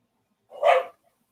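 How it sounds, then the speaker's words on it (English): A dog barks at birds outdoors, a single short, sharp bark at moderate distance, isolated against near silence. "barking at the birds again"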